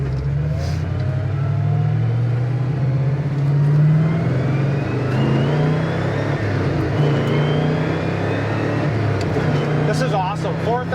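A 1971 Camaro Z28 V8 drives on the road with steady, loud engine drone that rises as it accelerates toward 4,000 RPM shifts, heard from inside the car with road and wind noise underneath.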